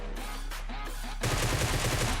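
A Groza rifle in PUBG Mobile fires a rapid automatic burst at close range, sharp dense shots packed together for about a second after a quieter stretch of gameplay sound.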